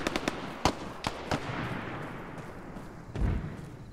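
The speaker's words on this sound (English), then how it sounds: "Yeah, I still hear the mortars." Mortar fire in ArmA 3 lands as a handful of sharp, distant thumps and booms, spaced irregularly over faint background battle noise, with a heavier rumble near the end.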